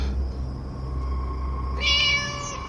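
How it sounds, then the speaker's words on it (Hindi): A single drawn-out cat meow rises clearly over a low steady hum as an eerie sound effect in a horror story about a truck driver, close and alone with no speech. "और तभी मेरे कानों में बिल्ली की आवाज आई।"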